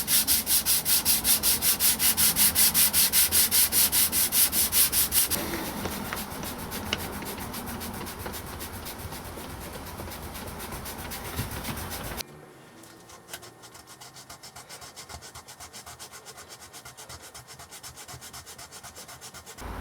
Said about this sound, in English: So I'm going to get everything else sanded to that point,